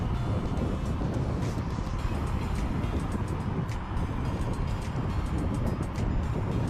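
Steady wind rush and road roar from an Ultron Ultra electric scooter ridden fast in dual motor mode, a constant loud buffeting with no voices.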